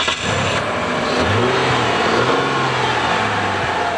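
A Kia Amanti's 3.5-liter V6 accelerates with a loud, steady engine drone whose pitch climbs and holds, heard close and alone with no talking.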